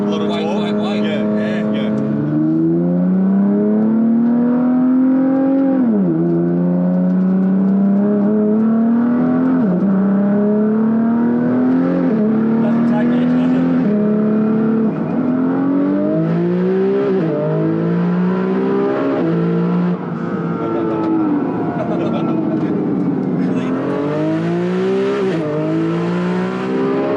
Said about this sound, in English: Well, it's quite interesting driving an R35 that I've actually driven before.